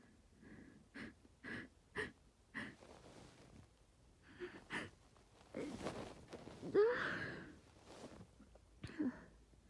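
A person with a cold lets out a series of stifled sneezes: short pinched bursts, several in a row, then heavier breathy gasps and a sniffly exhale, close to the microphone.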